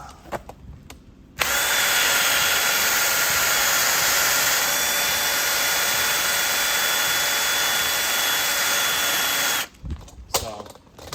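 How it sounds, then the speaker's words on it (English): A power tool with a wire wheel whines steadily for about eight seconds, loud and close, cleaning an Mk4 GLI engine, with brief clatter before and after. "we got this thing out now with a little wire wheel on it to get the engine clean"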